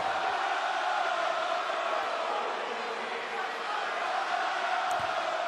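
A wrestling arena crowd at a live Monday Night Raw event roars in a sustained, mixed reaction, a dense wall of cheers and shouts that stays loud and even throughout.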